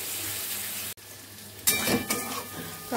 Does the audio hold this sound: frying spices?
yes